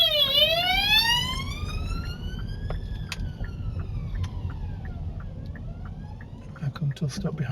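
Ambulance siren in Harehills sweeping up and down in long wailing cycles, passing close and loud over steady car road noise, heard from inside a vehicle in traffic.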